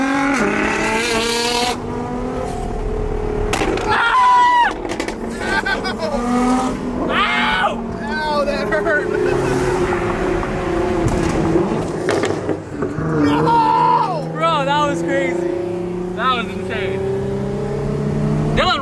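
Nissan GTR sports cars at a crowded street meet-up in Times Square rev and accelerate loudly, engines roaring and tires squealing in bursts throughout, with excited shouting voices over the traffic noise.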